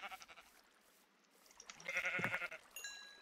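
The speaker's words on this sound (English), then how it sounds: "I'm gonna kill another sheep." Sheep bleating in Minecraft, one clear wavering bleat in the middle of the clip after a quiet start, followed by a short faint electronic tone, all at low volume.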